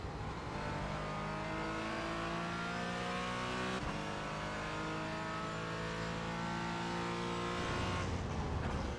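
A race car engine in the iRacing sim at Spa drones loudly and continuously, its pitch sliding up and down through gear changes, with one brief shift break midway.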